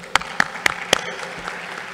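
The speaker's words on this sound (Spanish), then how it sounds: "Un aplauso." A few scattered claps from a small audience at a policy meeting, four or so distinct close hand claps over a faint murmur that quickly thins out.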